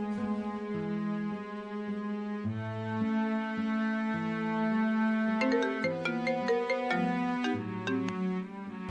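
A mobile phone ringtone plays a loud, continuous repeating electronic melody throughout, heard alone without voices, in a Tigre-language drama scene.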